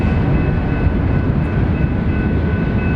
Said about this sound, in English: there is a train passing right behind me right here